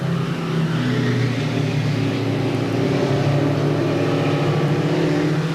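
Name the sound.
race cars at Seekonk Speedway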